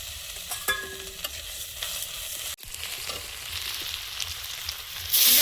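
Dry red chillies and whole cumin seeds fry in hot oil, giving a steady close sizzle with soft stirring scrapes, a brief dropout midway and a louder crackling burst at the end.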